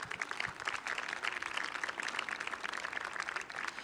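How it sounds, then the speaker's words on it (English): Audience applause at a Rose Queen announcement and coronation, a steady, even wash of many hands clapping for the whole stretch at moderate distance, with no voices rising above it. "So let's really give them a lot of applause to make them feel comfortable."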